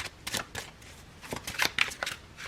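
Close, quick shuffling of a tarot deck: a few sharp papery riffles and soft card slaps in short irregular bursts, with no speech.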